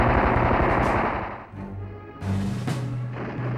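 Rapid bursts of cannon and machine-gun fire from a Messerschmitt Bf-110 fighter, dense rattling volleys that ease off briefly and then resume, loud against engine drone.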